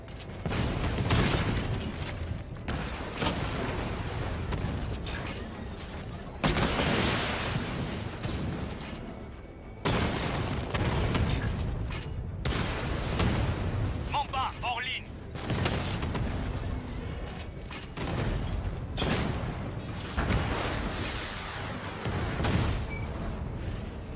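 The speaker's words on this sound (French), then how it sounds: "On essuie les tirs." Gunfire and booming explosions from the video game Batman Arkham Knight come in loud repeated bursts separated by brief lulls, with voices talking over parts of the action.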